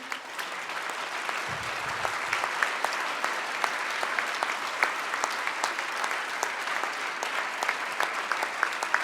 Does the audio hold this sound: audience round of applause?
yes